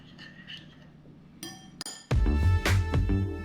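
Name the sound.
mixing sauce of dashi, oyster sauce and sake in bowl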